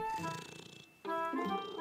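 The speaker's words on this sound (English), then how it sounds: "Mummy and Caillou heard a quiet meow." A cartoon cat gives a quiet meow: two soft, drawn-out tonal cries with a short pause between them.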